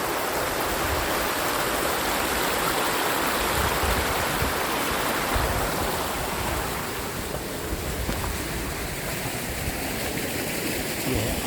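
Water rushes steadily through a long concrete irrigation canal built for landowners in Baghaow, Balochistan, a loud, close, continuous broadband flow with no breaks.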